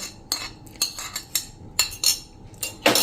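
A spoon knocks and clinks against a bowl while cashews, raisins and almonds are stirred into shrikhand, giving about ten short, sharp metallic taps in an uneven rhythm, close and fairly loud with no talking.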